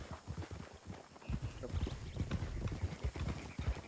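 Horses in the RedM western video game, a steady clip-clop of hooves walking close by, with a person talking over it.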